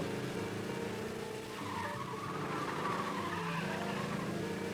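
A car in Mafia Definitive Edition drives steadily with a continuous engine drone and drawn-out tire squeal as it skids, a constant moderately loud wash with no pauses.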